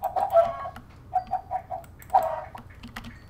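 Chickens cluck in Minecraft, a series of short, close, pitched clucks in irregular bursts, some louder and some softer, with no talking.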